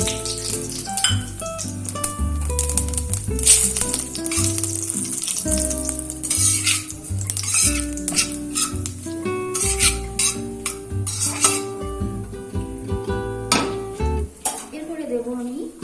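Dried red chili and black cumin crackle and sizzle in hot salted oil in a pan, with busy stirring and repeated clinks of metal utensils against the pan, continuous and close.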